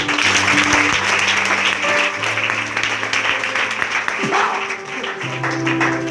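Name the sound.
congregation clapping for Jesus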